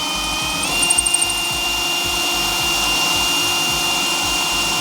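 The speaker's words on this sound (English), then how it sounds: "Then get a 5mm drill bit" A power drill fitted with a 5mm bit runs steadily while drilling holes through a car's heel plate, producing a continuous whine with a brief rattling burst near the start. The sound is close up and has no talk over it.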